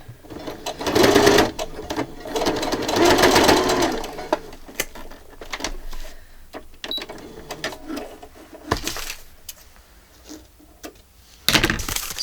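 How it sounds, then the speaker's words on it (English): A sewing machine runs a simple straight stitch through a soft journal cover, a close mechanical whirring chatter in bursts, fading to quieter stops and starts, then a sharp final burst. "I'm not taking it all the way to the edge. I'm just sewing it together."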